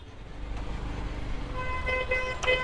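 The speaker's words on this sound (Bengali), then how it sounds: "দেখেন এই যে জ্যামটা লাগছে, এই জ্যামটা কিন্তু কোনো ট্রাফিক সিগন্যাল না।" Auto rickshaws and other vehicles sit in a traffic jam near Motijheel metro station in Dhaka, a steady low rumble of idling traffic broken near the end by several short, close horn toots.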